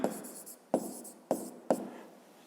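Handwriting on paper while noting down a maths exercise answer, heard as short scratchy pen strokes with four distinct taps or stroke onsets at uneven intervals, close and quiet.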